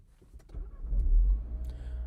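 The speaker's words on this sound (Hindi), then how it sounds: "सबसे पहले इस गाड़ी को स्टार्ट कर लेते हैं।" A Renault Duster 1.3 turbo engine cranks and catches, rising to a brief low rumble that swells and then settles into a soft idle, close by and without talk.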